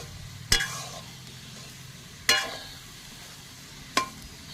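Boiled potatoes cooking in a pan over a low flame. Three sharp clinks of stirring, spaced a second or more apart, sit over a faint, steady sizzle.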